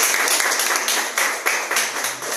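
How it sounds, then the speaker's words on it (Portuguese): A church congregation claps in praise, a loud close burst of hand claps in uneven rhythmic surges across a couple of seconds. "Aplauda a Jesus"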